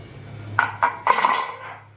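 A steel idli steamer pot is handled while being oiled, giving several short metallic clinks and knocks close by, the last one ringing briefly before fading under a low background hum.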